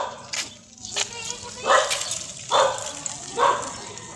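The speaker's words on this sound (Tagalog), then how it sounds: "Takot ako boy, mga aso yan." Several dogs bark outdoors in sharp bursts, about four distinct barks spaced roughly a second apart over a noisy background, with people talking nearby.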